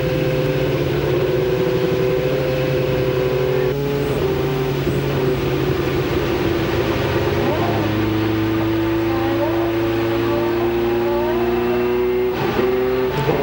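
IndyCar race cars at the 2006 Toyota Indy 300 roll behind the pace car, their engines droning steadily at moderate revs with sustained tonal hums that shift pitch partway through, loud and near with faint commentary beneath.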